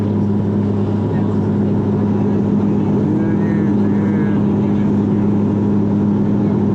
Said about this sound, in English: We're right by the engine